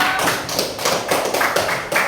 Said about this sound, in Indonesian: Kelompok 1 kasih tepuk tangan dong.